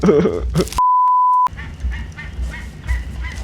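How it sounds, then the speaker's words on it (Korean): A bird calls at night in the dinosaur survival game ARK, giving honking, goose-like cries up close. A steady electronic beep tone briefly cuts across the calls, then the calls resume. "새소리, 새새끼 소리 같은데? 짝짓기 할 상대를 찾고 있나봐요, 이 야밤에."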